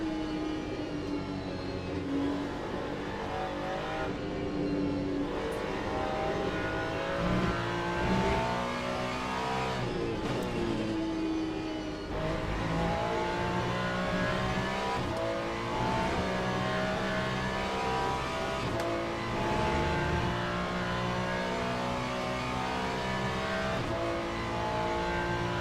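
A dense pack of LMGT3 race cars at Spa in Le Mans Ultimate roars continuously. Engines rev and shift for about 25 seconds, with no speech over them.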